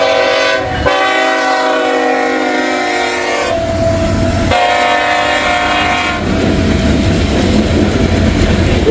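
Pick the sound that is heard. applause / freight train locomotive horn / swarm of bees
freight train locomotive horn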